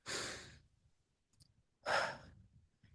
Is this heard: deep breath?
yes